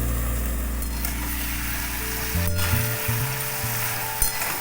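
Taro stolons with cumin paste simmer in oil in a covered pan over low heat, giving a steady, close sizzle throughout with a low tonal hum running beneath it.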